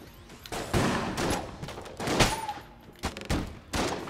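Rapid bursts of gunfire from a gun in the video game Enter the Gungeon, several loud volleys of shots in quick succession with brief pauses between them.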